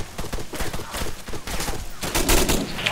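Dense, overlapping gunfire from a firefight in the video game Arma 3, with loud, close, crackling shots in rapid volleys throughout.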